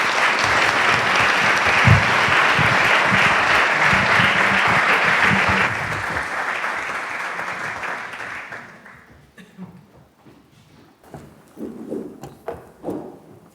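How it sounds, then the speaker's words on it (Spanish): Audience applause at a talk on Zen Buddhism, a loud dense burst of clapping that gradually thins out and fades to scattered claps and quiet room noise. "vamos allá y le damos un aplauso"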